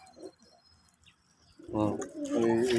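Desi pigeons coo at a farm, a short low rolling coo heard close by while someone speaks over it.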